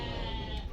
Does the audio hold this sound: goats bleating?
yes